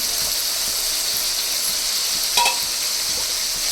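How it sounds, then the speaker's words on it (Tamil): Tomatoes for chicken curry sautéing in a pan with a steady close hiss of frying, broken by one brief stir near the end. "தக்காளி ஓரளவுக்கு வதங்கிடுச்சு"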